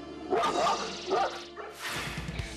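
Two large dogs bark close by at an intruder who has entered their home, giving sharp, fierce barks in quick bursts, followed by rougher, noisier barking and scuffling.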